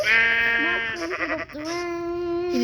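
Long, wavering sheep bleats in a video game, two or three drawn-out calls in succession, loud and close with a slightly synthetic game-like quality.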